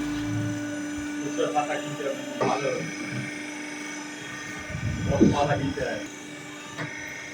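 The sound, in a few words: hydraulic machine running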